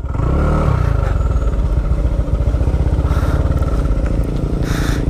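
A motorcycle engine labors up a steep hill near Norzagaray, Bulacan, carrying a single rider. Its loud, steady, pulsing rumble stays close and continuous throughout, with no talk.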